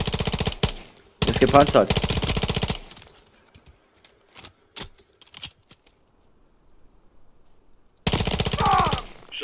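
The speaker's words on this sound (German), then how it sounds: "Irgendjemand schießt hier die ganze Zeit." Gunfire in the Call of Duty Modern Warfare 3 campaign, during a snowy mission: loud, close automatic bursts separated by scattered single shots and quiet gaps, with brief talk between the volleys.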